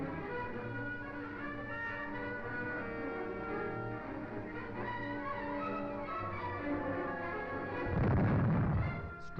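Artillery fire in a World War II newsreel from November 1942: a continuous rumbling barrage of distant booms under an old, band-limited recording, swelling into a heavier blast near the end.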